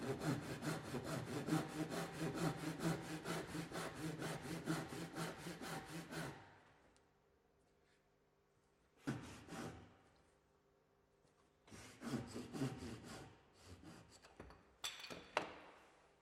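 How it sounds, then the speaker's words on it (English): A fine-toothed hand saw cuts along a timber joint in quick, even back-and-forth strokes for several seconds, then stops, and a few more short bursts of sawing follow after a pause. "a fine-toothed saw can be used to cut along the line of the joints to eliminate any minor gaps"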